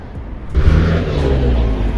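Marshrutka minibus driving past on a town street in Shabran, Azerbaijan, a steady close engine roar swelling in after a quieter start and holding loud to the end, with no voices.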